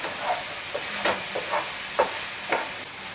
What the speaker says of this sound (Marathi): हे सुद्धा आपल्याला ना 1 मिनिट परतून घ्यायचं आहे.